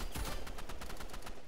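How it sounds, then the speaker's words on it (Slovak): Rapid bursts of video game gunfire fired at a fallen player's corpse, a loud sustained volley of repeated shots crackling close up with no talk over it. "On strieľa mojou mŕtvou."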